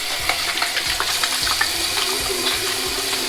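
Water splashing at a sink as a face is washed before a wet shave with Lather&Wood shaving cream and an Edwin Jagger DE89KN razor, close, uneven splashes and dribbles over a steady running-tap rush.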